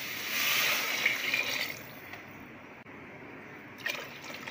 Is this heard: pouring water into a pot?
yes